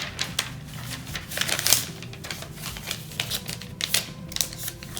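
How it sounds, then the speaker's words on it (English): A sheet of paper is folded by hand, giving a run of crisp rustles and sharp creasing crackles in irregular bursts, close and fairly loud. "Now I'm going to fold it."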